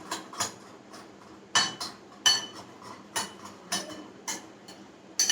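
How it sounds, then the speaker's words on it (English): A spoon clinks against a bowl while spices are mixed into a paste, giving a series of sharp, fairly faint taps at irregular intervals over a quiet background. "now I will give a quick mix to it"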